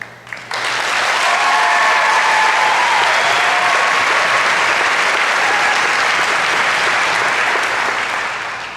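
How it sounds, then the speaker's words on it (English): A large audience breaks into loud, sustained applause after a speaker's talk, starting abruptly and holding a dense, even roar of clapping that eases slightly near the end. "Hey, you don't have to applaud for that."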